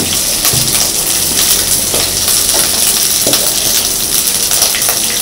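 Spice masala fries in oil in a pan, giving a loud, steady hissing sizzle that runs without a break, with faint stirring scrapes near the start.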